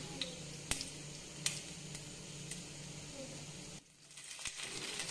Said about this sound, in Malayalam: ഇനി ഇതിലേക്ക് 1/2 ടേബിൾ സ്പൂൺ കടുകിട്ട് പൊട്ടിക്കാം.